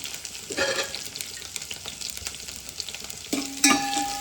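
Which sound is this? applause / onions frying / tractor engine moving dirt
onions frying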